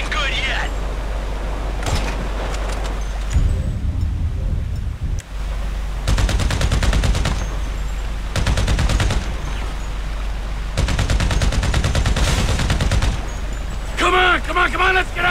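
Bursts of gunfire ring out in the video game GTA V, several loud, rapid volleys separated by short pauses, with game sounds and voices around them.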